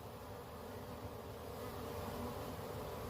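A honeybee swarm gathered around a hive box makes a dense, steady buzzing drone, a continuous close hum with no break and no voices over it.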